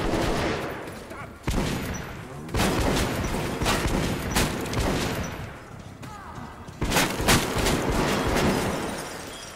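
Gunfire in the game Metro Last Light Redux: a dense run of loud, close shots and bursts with sharp cracks over almost ten seconds, barely pausing, while a voice talks faintly underneath.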